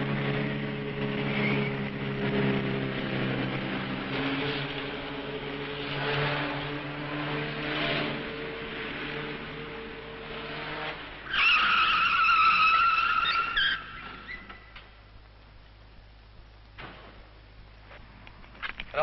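A stunt car is driven balanced on two wheels in a 1965 French stunt show, its engine droning and rising as it accelerates, then a sharp tyre screech cuts in before the sound fades into distant noise.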